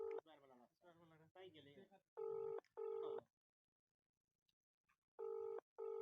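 A phone call is dialed from a second number, with short repeated electronic ringback tones pulsing in a steady pattern, preceded by people talking nearby.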